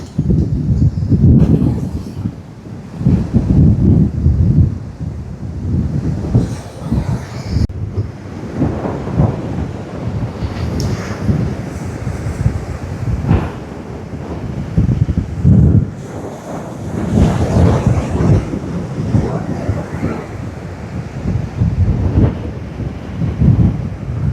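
Strong gusting wind roars across the KKS beach in Jaffna, buffeting loudly and continuously with waves surging underneath for the whole stretch, no talk over it.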